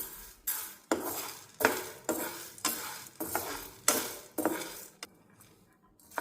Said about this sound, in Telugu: ఇవి 3 వేసి డ్రై రోస్ట్ చేసుకోవాలి మొత్తం అంతా.